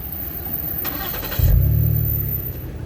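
Ford Explorer with a MagnaFlow exhaust and deleted muffler cold starting, a short starter crank followed by the engine catching into a deep, steady idle rumble, close and fairly loud.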